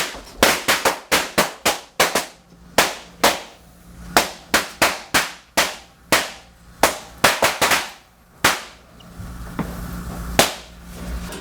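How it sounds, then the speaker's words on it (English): A rapid string of sharp firecracker bangs, roughly two dozen loud close cracks bursting in quick irregular clusters, then thinning out to a few last pops. "Firecrackers."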